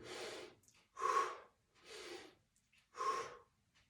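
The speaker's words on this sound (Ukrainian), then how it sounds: "робите вдих, видих" Slow, deep breaths in and out during a back and pelvis exercise, four long even breaths close to the microphone with brief pauses between them and no talking.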